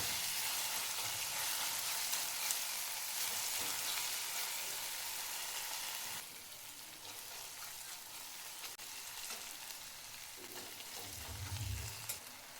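Tomatoes frying in hot oil in a pan, a steady, dense sizzle that runs close and continuous throughout, easing slightly partway through, with a brief low knock near the end.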